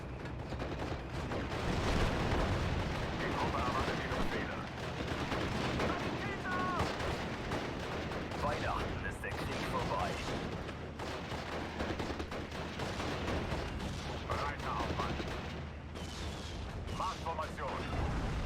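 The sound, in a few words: artillery fire in video game Steel Division: Normandy 44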